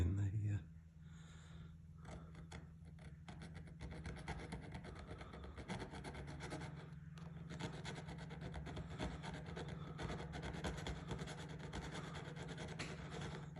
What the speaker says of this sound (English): fetching a bit of the old paint off the back of the dial while we file